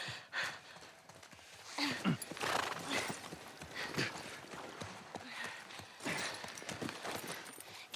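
Horse hooves clip-clopping in The Last of Us video game, a quiet, uneven run of hoof knocks and snorts mixed with breathy sighs and ambient game sound.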